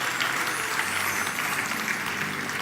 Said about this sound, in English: Please give them another warm round of applause